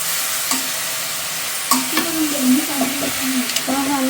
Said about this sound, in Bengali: সবগুলো মশলা লবণ দিয়ে নিচ্ছি মানে সব কিছু মিশে ভেজে নই